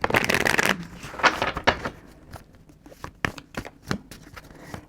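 Horoscope cards being shuffled: a dense riffling burst at the start, then scattered crisp card flicks and taps, close and fairly quiet, with no one talking.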